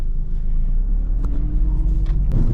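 A car drives home on a freshly patched tire, its engine producing a steady, close, low rumble that stays even for the whole moment, with no talking.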